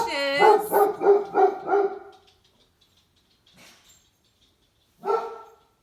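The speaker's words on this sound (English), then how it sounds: "Lincoln, no bark, bub." An indoor dog barks four times in quick succession, loud and close, then gives one more bark a few seconds later after a quiet gap.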